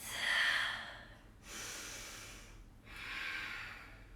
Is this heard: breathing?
yes